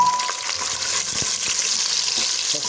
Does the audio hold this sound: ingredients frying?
yes